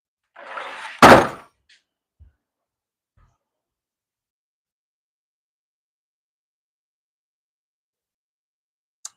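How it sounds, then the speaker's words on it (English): A hard-to-shut front door closing at home: a brief rustle, then one sharp loud thud of the door meeting its frame, followed by a couple of faint knocks and near silence. "since you just heard my front door shut, and I didn't slam it, by the way, it's just hard to shut"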